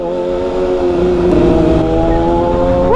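A sports motorcycle engine holds a steady loud drone with strong harmonics, then its pitch sweeps upward near the end as the bike revs and rides off, with no voices.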